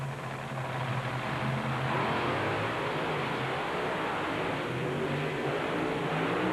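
GMC and Dodge monster trucks race side by side in a 1996 Bloomsburg event, their engines roaring loudly and steadily with a sustained low drone and revving throughout, with no talk.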